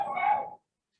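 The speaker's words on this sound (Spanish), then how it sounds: "Si se oyen cuando están ladrando" A dog's bark or yelp, somewhat distant and muffled, stretches into a short whining tone for about half a second and then cuts off abruptly into silence.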